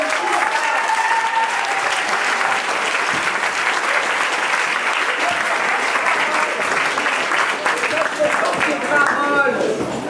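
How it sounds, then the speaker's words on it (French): A crowd at a political petition gathering applauds the mayor's deputy with sustained, even clapping that holds steady for about ten seconds, with scattered voices beneath. "Karine Le Béné, votre adjointe, qu'on peut applaudir"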